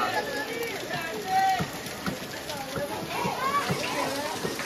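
Rain falls during a Ganesh festival in Dativare village, a steady broadband patter and splash running throughout under people talking nearby.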